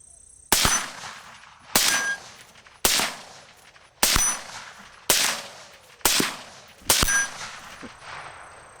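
Seven rifle shots crack sharply at a steady pace, fired at a target 36 yards away through an LPVO scope, each one ringing with a brief metallic clang.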